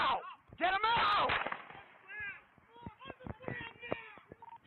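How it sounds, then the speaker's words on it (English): Gunfire during a police encounter captured on an officer's body camera, sharp loud cracks mixed with shouting voices, followed by a string of fainter popping bursts. "Shots fired, shots fired."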